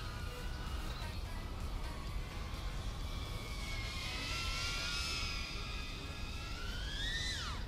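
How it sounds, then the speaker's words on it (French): An Eachine CVATAR 6S Cinewhoop drone flies freestyle, its propellers giving a steady, fairly faint whine that bends up and down with throttle and climbs sharply near the end, over constant background noise. "c'est un Cinewhoop avec lequel on va pouvoir faire du freestyle"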